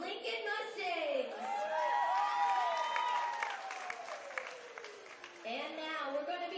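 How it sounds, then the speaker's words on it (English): A crowd at an annual CIF San Francisco cheer competition applauds and cheers for the Lincoln Mustangs cheer team, a broad wash of clapping and voices heard beneath a loud announcer over the PA. "give it up one more time for the Lincoln Mustangs"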